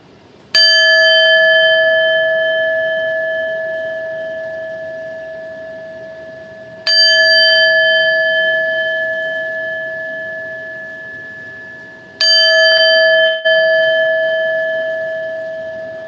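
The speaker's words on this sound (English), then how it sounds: "I could be in a funky mood and I hit that chime." A resonant chime is struck three times, each strike ringing out clear and loud, then fading slowly over several seconds.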